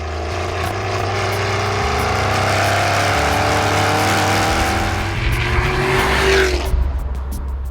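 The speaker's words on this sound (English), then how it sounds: "and the extra exhaust noise." A supercharged V8 sports car's exhaust roars loudly as it accelerates through the gears on track, pitch climbing, then a brief crackle as it lifts off.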